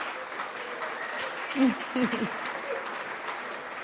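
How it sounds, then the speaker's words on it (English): Applause from an audience, a steady wash of clapping that carries on evenly with a few faint voices mixed in. "go ahead, round of applause, because sponsors make this happen"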